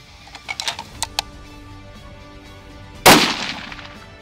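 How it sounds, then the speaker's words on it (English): A single loud rifle shot from a .300 Win Mag rings out at a shooting range, a sharp crack with a brief decaying tail, preceded by a few faint clicks and handling taps. "I'm shooting a 300 Win Mag."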